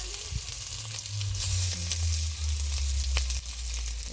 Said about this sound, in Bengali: পেঁয়াজটাকে দিয়ে ভালো করে ভেজে নিই।